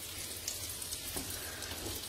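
Butter melting and sizzling in a pan while making pink sauce pasta, a faint, even hiss with a few tiny pops and no other sounds.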